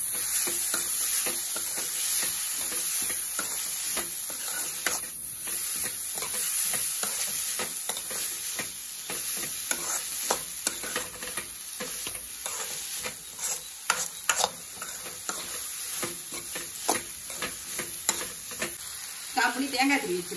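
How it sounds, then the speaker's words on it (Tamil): Amaranth greens are sautéed with onion and tomato in a pan, giving a loud steady sizzle with frequent spatula scrapes and stirring clatter close by. "கீரையை போட்டுக்கோங்க. நல்லா வதக்கி விட்டுக்கோங்க."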